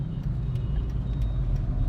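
A Hyundai Santro with an automated manual transmission driving through Bhubaneswar traffic, a steady low engine and road rumble inside the cabin with no talk.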